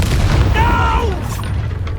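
In Hogwarts Legacy, a casting of the Incendio fire spell lands as a heavy, close boom with a fiery rush that fades over about a second, while a voice calls out briefly over it.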